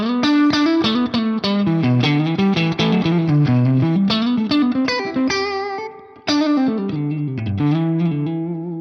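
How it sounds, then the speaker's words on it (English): An electric guitar plays through a Laney amp in its asymmetrical distortion mode, strummed chords and riffs with a gritty, slightly broken-up edge, loud and close, with a brief drop in the middle before the playing resumes. "If we go to the asymmetrical, remember this is a little bit more distortion, or it allows for a bit more gain"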